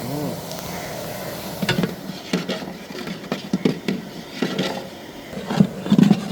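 Onions with ginger-garlic paste sautéing in a pan for a traditional Pondicherry chicken curry: a steady low sizzle with scraping spoon strokes and occasional clinks of the pan, fairly close, with no talk.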